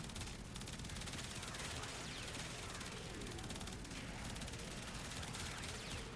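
Prisma Grakata automatic rifle firing continuously in the game Warframe, a dense, unbroken stream of rapid gunshots with impact crashes, loud and steady throughout with no pauses.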